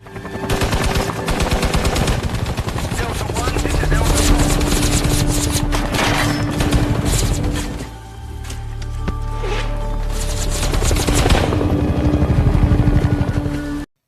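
In a Vietnam War film, a supply helicopter comes under heavy enemy machine-gun fire: dense, rapid gunfire bursts roll on almost without pause over a constant rotor drone, loud and close throughout.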